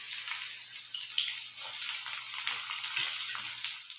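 Chopped onion frying with cumin seeds in a pan, a steady close hiss and sizzle with faint crackle throughout, no voices.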